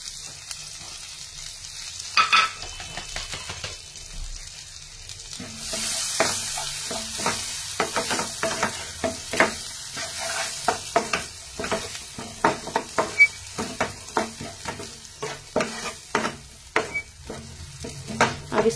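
Finely chopped onion fries in butter in a pan, a continuous sizzle with repeated scraping and stirring strokes from a spatula, close and fairly loud with no talking.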